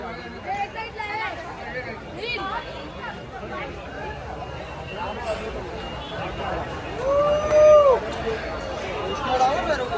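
A large crowd mills about at a Ganesh festival idol-arrival procession in Mumbai, a steady dense babble of many voices with scattered shouts and a brief louder surge near the end, people chatting throughout.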